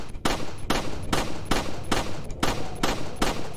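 Gunfire in Resident Evil 4 Remake, a series of about nine loud, sharp shots fired at an even, fairly quick rhythm, each with a short echoing decay, close and unbroken by talk.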